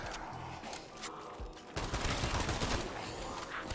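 Rapid automatic gunfire from a weapon in a zombie shooter game, dense bursts of shots running almost continuously and growing heavier partway through, loud and close with no talk.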